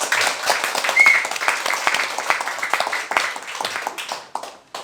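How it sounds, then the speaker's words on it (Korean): Rhythm dance fans at a gathering applaud their leaders and fellow enthusiasts, a loud, dense burst of crowd clapping with sharp individual claps that gradually thins and tapers off. "다시 한번 우리 리더, 회장님, 부회장님, 대표님들에게 박수 주시고, 그 다음에 매니아님들한테 박수 주시고"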